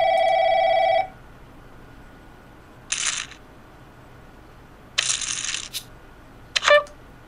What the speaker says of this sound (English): after it rings, I'll take that phone off so it won't ring again